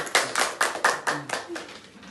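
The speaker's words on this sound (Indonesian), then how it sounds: "Oke, terima kasih tepuk tangan." A small group claps briefly in a classroom coding lesson, about eight distinct bursts in a quick uneven rhythm, close and moderately loud, with a little talk in the background.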